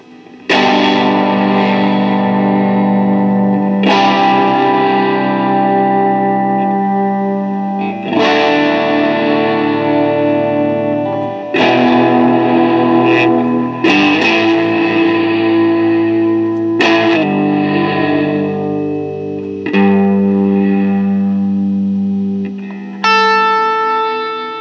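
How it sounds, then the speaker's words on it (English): Electric guitar run through an EHX Cathedral reverb pedal set to reverse reverb, loud sustained chords with swelling, washed-out tails that build and cut off in repeated phrases, ending on a bright plucked note. "This is your reverse reverb."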